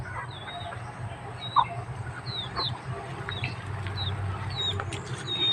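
Several chickens cluck and chirp softly at a distance over a low rumbling background, with scattered short calls throughout.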